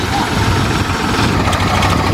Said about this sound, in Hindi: ये रहा ट्रैक्टर आ गया और ये ट्रैक्टर आ गया।